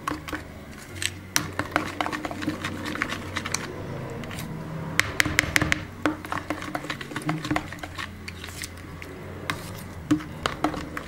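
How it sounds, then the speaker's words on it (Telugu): A utensil stirs cut egg in a bowl while mixing a batter for egg dosa. Quick, close clinks and taps against the bowl run steadily for several seconds, with busier stretches of clatter. "ఇలా మొత్తం ఒకసారి మిక్స్ చేసేసుకోండి"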